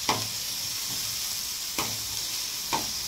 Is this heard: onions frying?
yes